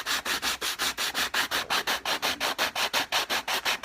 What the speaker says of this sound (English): just the sandpaper along the edge will make that nice and straight